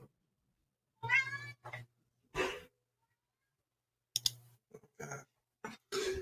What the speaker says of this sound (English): No, your cat.